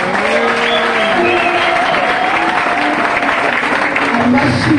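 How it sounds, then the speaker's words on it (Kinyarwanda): Steady crowd applause from a church audience after a gospel song, continuous clapping blended with voices and cheering throughout. "mubaha amashyi menshi"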